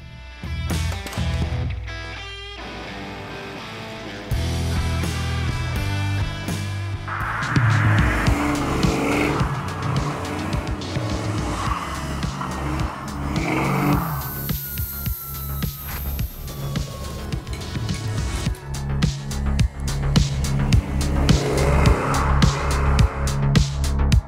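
A supercharged Ford car with an AOD automatic transmission drives hard, its engine note loud and sustained, rising through revs with tire squeal and road noise building toward the end.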